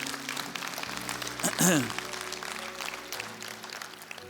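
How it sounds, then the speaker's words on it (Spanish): A church congregation breaks into applause during a Spanish-language sermon, a broad wash of clapping that swells briefly in the middle and stays mixed under ongoing voices and a steady background tone. "Podemos dar un aplauso a Dios por su palabra."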